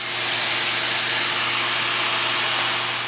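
Fire roasted diced tomatoes, diced potatoes and chopped olives for Peruvian-style chicken tacos sizzle in a pan with a steady, loud, hissing spray that holds evenly throughout, with a low steady hum underneath.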